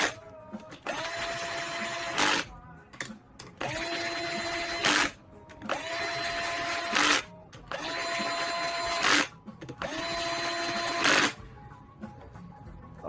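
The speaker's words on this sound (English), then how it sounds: "And now I'll bolt these down. I'll use this cordless." Four long whirring bursts from a cordless drill with a drag clutch driving bolts into a 2021 Yamaha YZ250F engine top end, each run ending abruptly, with brief pauses between, close up.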